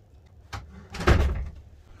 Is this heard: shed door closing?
yes